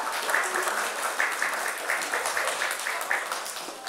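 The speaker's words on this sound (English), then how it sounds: "So can we please give her a round of applause for her?" An audience at a Yoruba Day celebration claps in steady, dense applause, moderately loud and continuous throughout.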